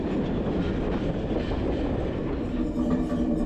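Steady rumbling noise of a historic train on the Douro Valley line, a continuous rolling roar with low clatter and a faint squeal of wheels, heard from close inside.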